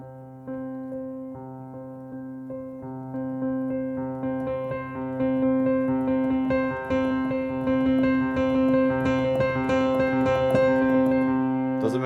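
A piano plays a repeated figure that starts sparse and quiet, then grows steadily faster, denser and louder across the passage, with no voices.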